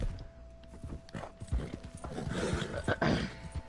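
Horse hooves clip-clop in quick, uneven steps through a town in Red Dead Redemption 2. The hoofbeats sound close and moderately loud, with no talking.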